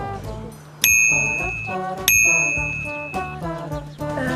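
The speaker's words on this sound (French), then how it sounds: "Une sonnette?" A bicycle bell rings twice in quick succession, bright and close, its metallic tone lingering over a busy background of clinking tones.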